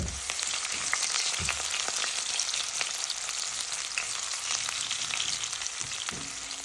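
Onions fry in olive oil in a pan for caramelizing, a steady close crackling sizzle throughout with a couple of soft utensil knocks and stirring sounds, no talking.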